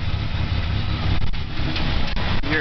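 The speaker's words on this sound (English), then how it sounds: "Exhaust is kind of rocking back and forth, and it's kind of putting and putting" A 1997 Ford Ranger pickup engine runs rough with a misfire, a steady low chugging exhaust putter heard close up from behind or beneath the truck, with no talking.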